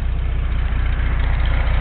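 A cold Volkswagen engine idles just after starting, a loud, close, steady low throb with an even rapid pulsing rhythm and no talking.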